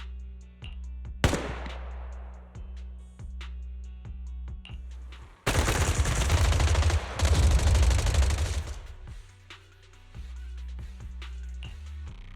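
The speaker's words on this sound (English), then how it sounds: "Gunfire? This pattern. Suppressive marching fire." Gunfire in the video game Zenless Zone Zero, a single loud shot followed by a dense, sustained burst of rapid automatic fire for about three seconds, then quieter sporadic clicks and rumble.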